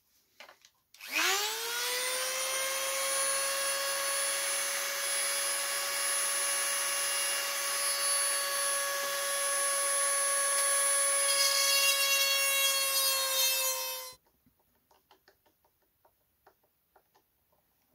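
A small power drill whines steadily at high pitch for about thirteen seconds while drilling small holes in an electric power pod for a model glider, then stops, leaving a few faint clicks.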